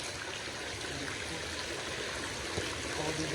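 Water runs steadily from a faucet into an outdoor swimming pool, a constant close trickling and splashing hiss that holds even throughout.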